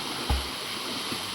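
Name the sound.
flowing water of a mountain stream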